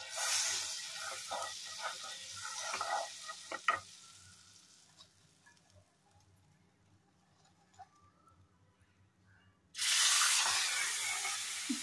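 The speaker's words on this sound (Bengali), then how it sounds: "বাটারটা দিয়ে পনিরটা ভাজবো।" Paneer frying in butter in a wok, a steady hissing sizzle with a few clinks of stirring that drops away to quiet, then comes back loud and bright, with no talking.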